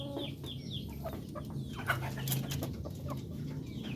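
Darag native chickens, young breeder hens, clucking and calling close by in a quiet coop, with short repeated clucks and a few higher squawks scattered across a few seconds.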